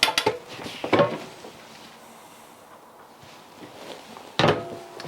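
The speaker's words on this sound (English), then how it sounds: "you can just feel it opening and closing the cabinets and the drawers." Cabinet doors and drawers in the kitchen of a 2019 Northwood Nash 29S travel trailer open and shut, giving a few close, sharp wooden knocks and clatters separated by quiet pauses.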